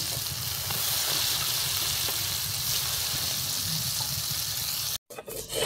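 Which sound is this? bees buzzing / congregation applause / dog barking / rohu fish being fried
rohu fish being fried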